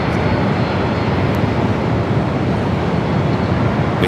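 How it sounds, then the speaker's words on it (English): A Boeing 787-9 Dreamliner on Flight 5 to Tokyo Narita at Los Angeles LAX roars loud and close in a dense, unbroken rush of jet noise, with no talking. "Flight 5 heading back to Tokyo Narita in the 787-9 Dreamliner."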